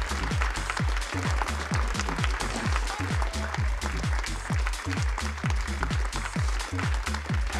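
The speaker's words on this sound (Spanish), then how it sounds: "recibimos con un fuertísimo aplauso a la doctora Julieta Fierro" A studio audience at a Spanish-language science television program applauds strongly, with steady, rhythmic clapping that continues at a constant level throughout.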